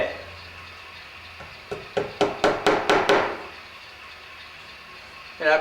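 A quick run of light hammer taps driving track pins into a model railway layout, about seven in a row, speeding up slightly and fading, with quiet background before and after.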